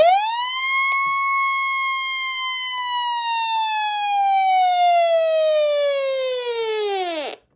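A Midland 74109 weather radio sounds its weekly test siren, a loud piercing electronic tone that holds steady for about seven seconds, drifts slightly lower in pitch, then drops away abruptly.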